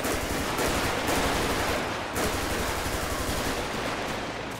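Sustained gunfire crossfire in GTA 5 during a police gang-unit patrol, dense rapid automatic bursts rattling loud and continuous throughout with a brief lull midway, no talking.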